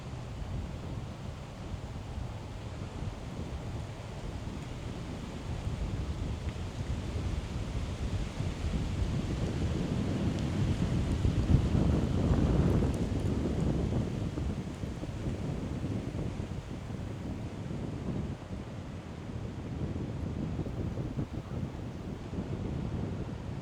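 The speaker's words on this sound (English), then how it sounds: "that wind" Strong gusting wind buffets the microphone outdoors while a DJI Neo drone flies, a constant rough roar that swells in the middle, with no speech.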